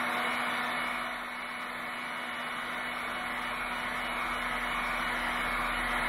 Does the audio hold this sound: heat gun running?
yes